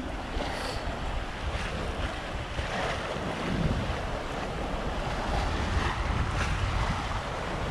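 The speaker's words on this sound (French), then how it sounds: "Ça bouillonne là. Plou, plou, plou." Sea water churns and rushes steadily around a sailing boat under way toward Gibraltar in August, a continuous broadband wash with wind buffeting the microphone and no voices.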